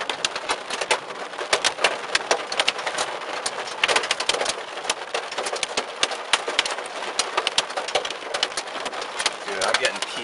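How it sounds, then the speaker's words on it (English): Pea-sized hail pelts a car during a severe thunderstorm, a dense, rapid patter of sharp clicks on the body and glass, steady and loud from start to finish. "Dude, I'm getting pea-sized hail."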